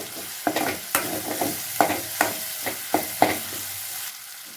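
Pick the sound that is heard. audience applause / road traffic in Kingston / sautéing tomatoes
sautéing tomatoes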